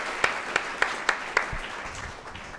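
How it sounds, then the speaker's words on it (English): A museum director's talk audience gives applause to an organiser: a handful of distinct, evenly spaced sharp claps over a soft wash of scattered clapping, fading out quickly. "we need to give you some applause before we get underway"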